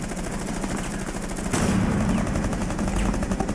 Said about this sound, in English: Yeah, just keep shooting.